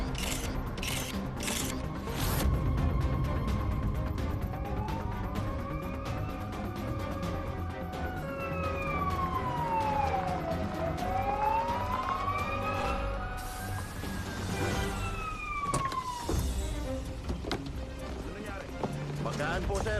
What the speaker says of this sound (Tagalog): Malapit na yung ambulansya.